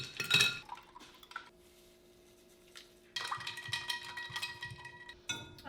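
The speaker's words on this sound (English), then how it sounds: "So let me mix my drink and then we will start baking." A drink being mixed in a cup, with a spoon clinking and rattling against it in short bursts separated by a quiet pause, close and moderately loud, no talking.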